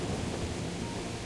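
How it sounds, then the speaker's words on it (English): Steady rain with a low thunder rumble in the video game Kingdom Come Deliverance, a dense, even wash of noise throughout with no talking. "It's raining."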